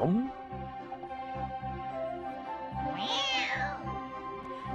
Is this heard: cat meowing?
yes